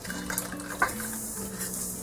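Water pours from a measuring cup into a bowl of dry mixture while canning organic apples on a homestead, a steady close splashing pour with a brief clink partway through.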